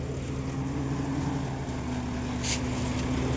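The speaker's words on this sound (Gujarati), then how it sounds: "ટ્રેક્ટર ચાલુ કરીને આવ્યા" A small tractor engine idles steadily nearby in a groundnut field with a thresher at work, a continuous low droning hum with a brief higher hiss partway through.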